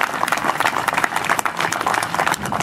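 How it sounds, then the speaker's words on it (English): Applause from a ceremony audience honoring veterans of the destroyer USS Somers at Somers Point, a dense, steady patter of many hands clapping close by for a few seconds without a break. "give a round of applause for these veterans who have come to Somers Point"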